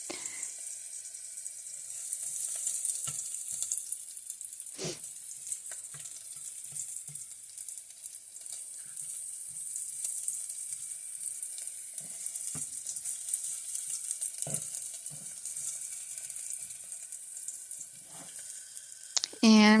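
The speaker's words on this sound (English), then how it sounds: "I'm just tipping it over a little bit so you can see how it's sauteing" Ingredients for navy bean soup with sausage sauté in a pot, giving a steady, fine sizzle throughout with occasional clinks and scrapes and a brief voice at the end.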